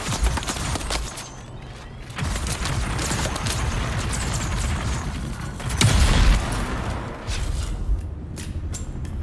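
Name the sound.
explosion in the video game Dune: Awakening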